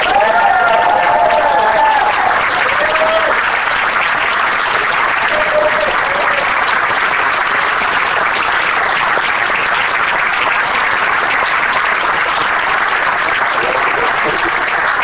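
Loud, sustained applause from a large audience fills the room, with a few voices and cheers rising briefly near the start.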